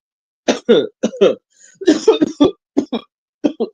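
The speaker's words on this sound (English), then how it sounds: "Excuse me, caught the cough." Several short, sharp coughing bursts in quick succession, close to the microphone, with brief pauses between them and no talking.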